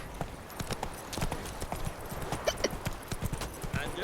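Roach, a horse in The Witcher 3, clip-clops steadily along in a quick, even rhythm of hoofbeats, moderately close, with occasional voices talking over the hooves.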